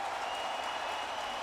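A Yankee Stadium crowd applauds a home run hitter's curtain call at a night game against the Athletics, a dense, steady wash of clapping and cheering heard from a distance.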